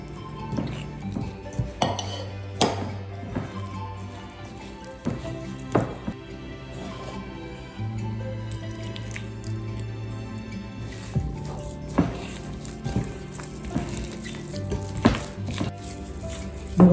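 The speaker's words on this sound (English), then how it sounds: "You want to knead it until it's a nice, slightly hard dough." Thekua dough is mixed and kneaded with syrup in a bowl: wet squishing and slapping, with utensil knocks and clinks against the dish at irregular intervals, close by and without speech.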